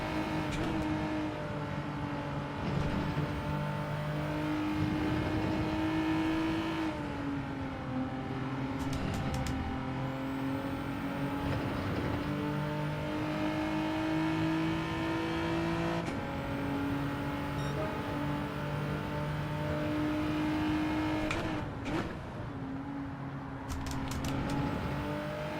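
A Group 4 race car engine in Gran Turismo 7 at Watkins Glen short course holds a steady high drone, with pitch shifts and brief gear changes, continuous throughout.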